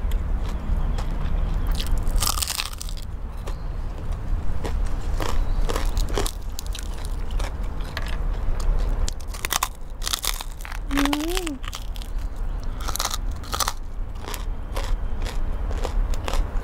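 Crispy fried pork leg being bitten and chewed with pounded salad and sticky rice, loud close crunches and crackles recurring through the clip, with a brief voice in the middle.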